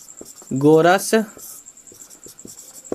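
A pen scratching on paper in short, quiet strokes, close by, with someone speaking briefly partway through during a class 10 trigonometry lesson.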